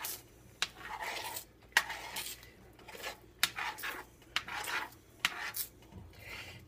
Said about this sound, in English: Stir it up, it's bubbling.